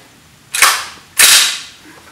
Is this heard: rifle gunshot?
yes